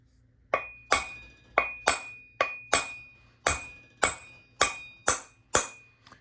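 Hammer tapping on a part of a Singer 401A sewing machine, about eleven sharp metallic taps with ringing decay, evenly paced and close.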